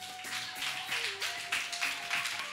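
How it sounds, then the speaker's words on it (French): Applause from an audience at a graduation-style ceremony, a steady wash of many hands clapping with soft, irregular swells, heard fairly faintly over a sustained tone and background music. "Applaudissez s'il vous plaît."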